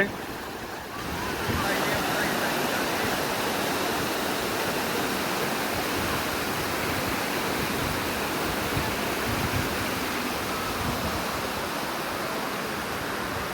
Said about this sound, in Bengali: দেখুন কি প্রচণ্ড স্রোত নিয়ে পানি ঢুকতেছে